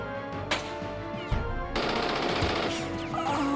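Gunfire in the Jagged Alliance 2 video game: bursts of rapid machine-gun fire with sharp individual shots, moderately loud and continuous through most of the moment.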